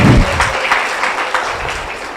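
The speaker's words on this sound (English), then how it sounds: "can we have a round of applause for" Applause from a crowd, a steady wash of clapping that carries on for a couple of seconds with no talking.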